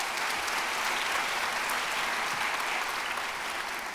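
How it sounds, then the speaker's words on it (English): An audience at the 2015 "Do the Write Thing" Challenge event breaks into a big round of applause, a dense, even roar of clapping that holds steady for four seconds. "Let's give them a big round of applause."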